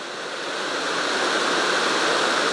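Bout du Monde waterfall cascade running full after two days of rain, a steady broadband roar of falling water that swells slightly louder and holds constant, with no voices.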